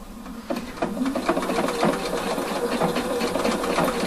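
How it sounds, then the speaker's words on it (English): A sewing machine stitches the two overlapped ends of an elastic waistband together. After a brief quiet start, a close, steady, rapid mechanical whirring runs continuously to the end. "I place the two ends upon each other and stitch it together"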